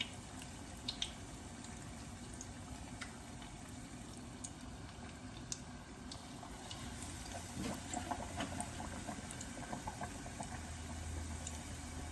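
Battered fish fries in olive oil for fish and chips, giving off a faint, steady bubbling sizzle with scattered soft pops and crackles, close by and otherwise quiet.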